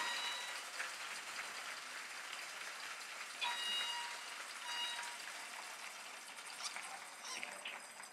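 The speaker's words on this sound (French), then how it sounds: "je pense qu'on peut leur donner une bonne main d'applaudissements" Applause from the audience at a Ma thèse en 180 secondes 2023 competition, a broad, steady wash of clapping held at moderate level through the whole stretch, with voices mixed in.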